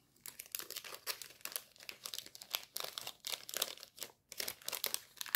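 Sticker or die-cut packets being torn open, giving a steady run of close, bright crinkling and rustling of plastic wrap with brief pauses, no talking.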